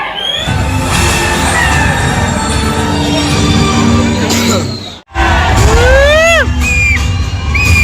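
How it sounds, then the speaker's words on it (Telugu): NTR fans inside a cinema hall at a Devara screening cheer, whoop and shout loudly as a dense crowd, with whistles and shrieks rising above the roar and a brief dip mid-way. "మొత్తం అరుపులు కేకలే ఎన్టీఆర్ ఫ్యాన్స్."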